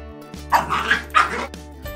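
A single puppy's bark-like yelp, fairly close and clear, stretched into a whining tone, with no other sounds around it, from a Numberblocks children's cartoon.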